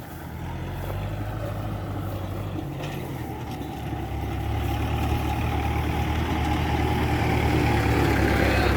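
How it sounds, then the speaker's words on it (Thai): A farm tractor approaches along a roadside where a herd of cattle grazes; its low, steady engine rumble grows gradually louder and fuller, with no talking. "รถไถมาแล้วนะครับ"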